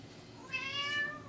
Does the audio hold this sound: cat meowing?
yes